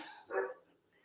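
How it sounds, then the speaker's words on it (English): A single short bark from a dog, slightly distant, in an otherwise quiet room. "My dog's gonna be loud now"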